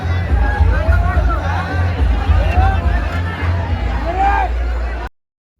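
Crowd babble at a busy temple entrance, many overlapping voices and calls mixed into a dense, steady hubbub with occasional louder shouts, close and continuous until it cuts off abruptly.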